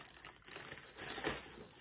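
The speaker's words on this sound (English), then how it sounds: "pull it out of the plastic bag" Soft crinkling of a plastic bag as a mini extension pole and tripod for a GoPro Hero 8 is pulled out, quiet and close, with rustles rising briefly toward the middle.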